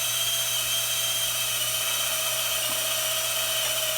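A screw gun running continuously to drive a screw-jack pulley drive on a cherry picker lift, giving a steady high-pitched motor whine that holds at an even level up close.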